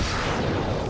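Missiles launching in the SFC:OP+ starship combat game, a short dense burst of firing noise at full loudness, heard alone.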